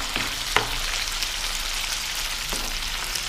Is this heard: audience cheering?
no